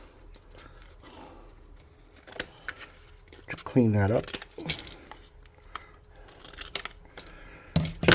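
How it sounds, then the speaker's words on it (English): Several crisp scissor snips cut through stiff cardstock, spaced irregularly and close by, with a short stretch of talking in the middle. "I'm just going to use my scissors"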